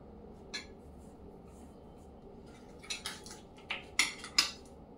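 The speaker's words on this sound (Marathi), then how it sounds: "आता इथे पण लावून घेते मी बटर" A knife spreads butter over slices of bread for homemade pizza, making a few soft scraping strokes that cluster toward the end. The sound is faint and close, with quiet room background and no clear talking.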